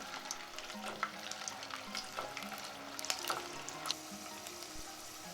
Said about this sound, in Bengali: দিয়েছি দুটো শুকনো লঙ্কা আর চার পাঁচটা রসুন কুয়া দিয়ে একটু ভালো করে ফ্রাই করে নেব